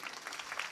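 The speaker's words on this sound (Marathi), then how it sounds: "टाळ्या वाजवा ना जोरदार" Gathered listeners at a devotional kirtan performance clap briefly, a short, busy burst of hand-clapping at a moderate, steady level.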